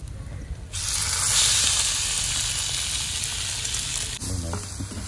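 Coarsely ground masala paste lands in a pan of hot tempering and bursts into a loud, sustained sizzle right after a brief quiet start. The hissing eases slightly toward the end, and low rumbling runs underneath.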